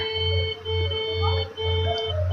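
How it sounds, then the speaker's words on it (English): Repeated electronic beeps in a steady pulse, about one per second, over a constant high-pitched tone in the background. "If you hear those beeps in the background"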